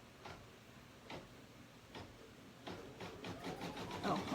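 Embroidery sewing machine stitching around the circular outline of an in-the-hoop compact mirror design, a soft, faint mechanical ticking that comes in scattered taps before settling into a steadier, slightly louder rapid stitching.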